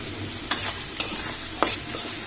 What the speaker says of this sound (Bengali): আলুটাকে এইভাবে ভেজে নিব প্রায় 5 মিনিট মতো মিডিয়াম আছে।